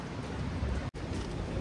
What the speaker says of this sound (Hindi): बाहर बारिश वारिश स्टार्ट हो गई है.